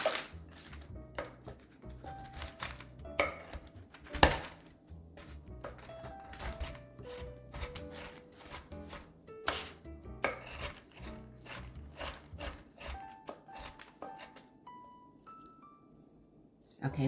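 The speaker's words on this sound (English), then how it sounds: "now we are going to chop up these candied walnuts" A knife chops candied walnuts on a cutting board for a spinach salad, giving a run of quick, irregular, close chopping taps that keep going, with a faint tonal background.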